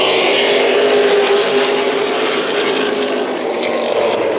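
Late model stock cars roar together into turn one at a short bullring track, a dense, loud pack of engines blending into a continuous broad growl with a slight pitch sweep.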